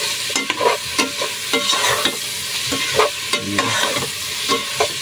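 Stirring beef skin cooked bulalo style in a pot, with repeated scraping strokes of a utensil at an irregular rhythm over a soft background sizzle, close and clear with no talking.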